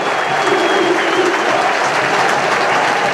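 Steady football crowd applause, dense and continuous clapping throughout, fairly loud with a broad wash of sound and no pauses.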